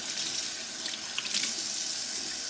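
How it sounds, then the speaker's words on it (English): Dishes rinsed under a running kitchen sink faucet, a steady close hiss of flowing water with small splashes and clinks as items pass through the stream, with no voices. "I'm going to rinse up these, and these are the things we used"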